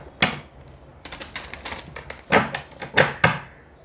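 Tarot cards being shuffled by hand, a run of soft papery riffles and flicks with a few sharper card snaps and taps toward the end, close and fairly quiet, with no talking.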